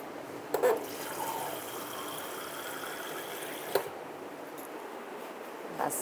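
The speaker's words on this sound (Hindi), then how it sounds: "बस 1 कप मैंने पानी डाला है इसमें," A cup of water goes into a cooking pot of chicken and chickpea curry, and a steady liquid pour and sizzle holds throughout, with a couple of brief knocks against the pot.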